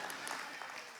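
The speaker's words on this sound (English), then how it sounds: "Clap, clap, clap, clap, clap," A church congregation clapping, a brief, faint, steady patter of many hands at a distance with no voices over it.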